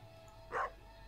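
A single short dog bark in a farming video game, one clear yelp-like woof against a quiet background.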